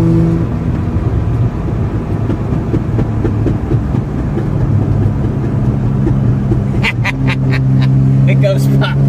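A cheap Mazda RX7 freewheels downhill at around 5,000 RPM. A steady exhaust drone runs under it, then a quick cluster of sharp exhaust pops crackles near the end.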